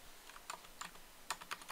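Keystrokes on a computer keyboard while entering C# code, a quick run of light, crisp taps in uneven bursts, close and fairly quiet with no talking.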